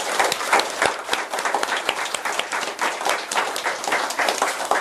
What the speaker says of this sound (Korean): 분을 위해서 한번 박수 한번.